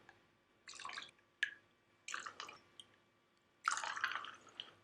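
Kombucha poured over ice into a glass: several short splashing, trickling bursts separated by pauses, with a faint clink, quiet and close.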